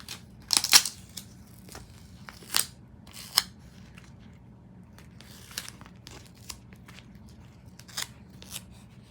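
Scissors snipping through material along the slot of a homemade boxing glove, several sharp close cuts with crinkling bursts spread across a quiet background.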